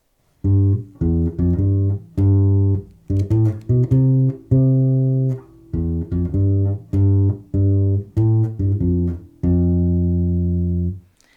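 Deep, warm plucked bass ukulele notes in a loping swing rhythm, short phrases separated by brief pauses, ending on a long sustained note.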